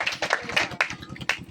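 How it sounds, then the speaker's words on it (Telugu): Wedding guests clapping after the mangalsutra is given at a Christian ceremony, a short burst of scattered, fairly faint claps at moderate distance over a low steady hum. "చప్పట్లు కొట్టండి గట్టిగా"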